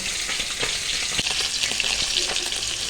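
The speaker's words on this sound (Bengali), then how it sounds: "জলটা ফেলে দিয়ে তারপরে এটাকে আবার ভাজবো" Boiled vegetables, drained of their water, frying in a pan with a loud, constant close sizzle and occasional scraping stirs, no voices over it.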